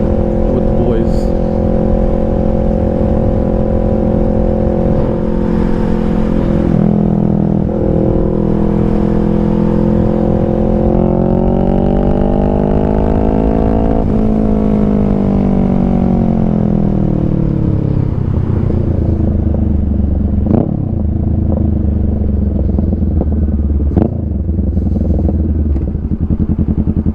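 A Honda Rebel 500 fitted with a DBK exhaust, heard up close as a loud, throaty engine with rising and falling revs, a long climb and drop, then a few sharp blips.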